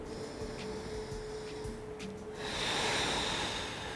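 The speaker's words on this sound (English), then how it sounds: "One more deep inhale and exhale." One slow deep breath in and out, a soft airy inhale followed by a longer, louder exhale, close and quiet under steady room hiss during a lower-body resistance band workout.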